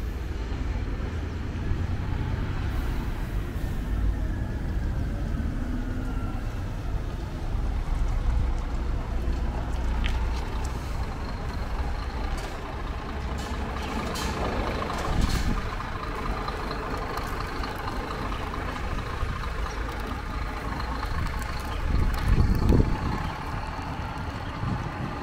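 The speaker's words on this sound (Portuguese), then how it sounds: "Saindo aquele double decker da Cometa com destino a São Paulo, hein?" A Cometa double-decker bus pulling out of the Ribeirão Preto bus station, its low diesel engine rumble steady and moderately close, with outdoor traffic noise and brief louder swells near the end.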